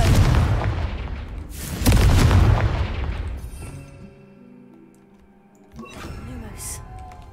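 A Confringo fire spell in Hogwarts Legacy bursts with a heavy booming blast, followed by a fading rumble and a second lighter impact, while a voice speaks over the action.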